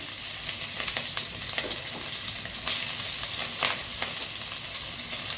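Chopped green chilies crackle in hot oil with mustard seeds and cumin, a steady close sizzle with scattered sharp pops throughout.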